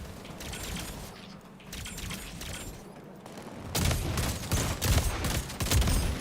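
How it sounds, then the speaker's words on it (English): Shotgun blasts ring out in a fast-paced shooter video game, loud booming shots mixed with rattling gunfire and mechanical clatter running throughout. "Three shots with a shotgun to kill that guy."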